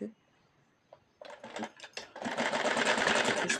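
A sewing machine stitches a sleeve onto a kurti, starting with a few short needle bursts and then running in a fast continuous whirring rattle, close by, after a brief faint voice at the start.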